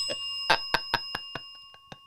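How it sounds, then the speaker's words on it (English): A custom bell rings with about eight bright metallic strikes in a quick, slightly uneven rhythm, each ringing on briefly before the next, heard close and clear with no talking. "You got your custom bell?"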